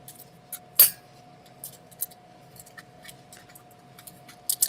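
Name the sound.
scissors cutting paper leaves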